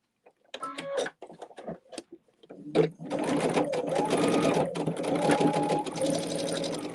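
Sewing machine stitching fabric, running in a steady continuous whir after a few short bursts of handling and brief stops, close and fairly loud.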